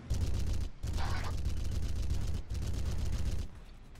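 Rapid bursts of gunfire in a shooter game aimed at the player, dense crackling volleys with two brief gaps and a quieter tail at the end.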